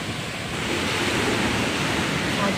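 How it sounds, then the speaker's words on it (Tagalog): Steady gusting wind buffeting the microphone, a continuous blustery rumble with a faint background murmur. "Buti na lang mahangin for today."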